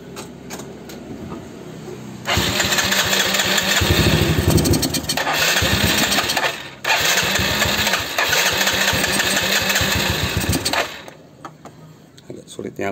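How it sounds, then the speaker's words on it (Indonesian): A motorcycle engine cranks and catches with the choke pulled after a carburetor service, revving loudly with a brief stumble midway before picking up again, then dying away near the end; faint talk precedes it. "Tarik cuk baru sambil di starter."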